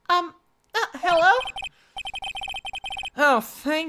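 A cell phone rings in the Ace Attorney: Justice For All video game, a rapid burst of repeated electronic trill pulses set between spoken voices before and after.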